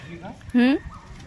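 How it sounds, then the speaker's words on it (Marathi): A single short rising bird call, fowl-like and fairly close, stands out once over a quiet outdoor garden background with ginger plants and a vine, with faint voices nearby. "पक्ष्यांचा किती छान चिवचिवाट आहे"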